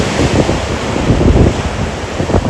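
Ocean surf rolls in at Tarague Beach on Andersen Air Force Base, Guam, a loud continuous rush of waves mixed with gusting wind buffeting the microphone.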